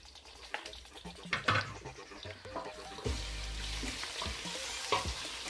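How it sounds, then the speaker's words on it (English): Fresh garlic and ginger frying in oil with golden-browned onions for chicken biryani, a steady sizzle with intermittent stirring scrapes and clinks, close and alone with no voices. "Once the ginger and the fresh ginger and garlic has fried a bit"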